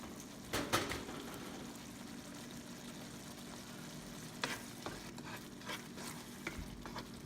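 Stirring brown sugar into a pan of spicy tomato garlic shrimp, a soft scraping and stirring over a low steady sizzle, with a few louder clinks and scrapes close by and no talk.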